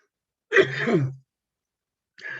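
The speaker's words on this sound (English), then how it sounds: "I do apologize that you're having to listen to me cough" A person coughing during an online-learning talk: one harsh, throaty burst lasting under a second, a brief silence, then the start of a second, shorter cough, close and fairly loud.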